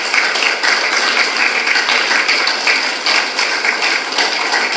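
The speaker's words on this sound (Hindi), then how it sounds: "तो एक बार आप सभी अपने लिए जोरदार तालियों से अभिनंदन करें" Yoga participants give loud, sustained applause, dense rapid clapping that fills the whole stretch evenly, close and without talk.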